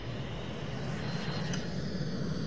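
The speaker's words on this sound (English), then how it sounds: "Start the engines." Jet engines of a Soviet Concorde-style airliner spool up in the Roblox flight game Aeronautica, giving a steady, broad roaring whoosh at moderate level with no talking.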